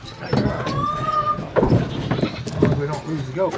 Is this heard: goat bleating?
yes